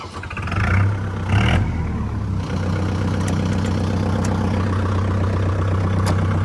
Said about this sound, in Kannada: ನ್ಯೂಟ್ರಲ್ ಮಾಡ್ಕೊಂಡೆ ಗಾಡಿನ ಸ್ಟಾರ್ಟ್ ಮಾಡಬೇಕಾಗತ್ತೆ.